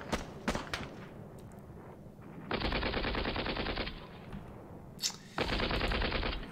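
In the wargame Panzer Battles North Africa 1941, rattling machine-gun bursts ring out, with two long sustained volleys and scattered single shots between them, loud and close.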